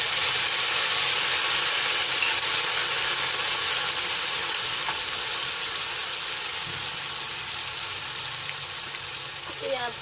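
Ground onion paste, three onions' worth, frying in a pan of oil for stuffed bitter gourd, a continuous strong sizzle that slowly eases over ten seconds, with a few light scrapes near the end.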